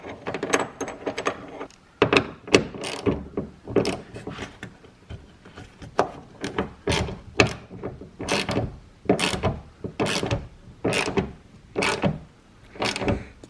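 A hand ratchet tightens a bolt on a bonnet strut of a VW Polo 9N3, producing a rhythmic series of close, sharp clicking bursts, one after another, with brief pauses between strokes.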